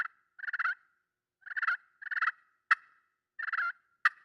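A friction call imitates turkey purring in rolling, fluttery bursts, with a few sharp clicks or clucks between them against a quiet background.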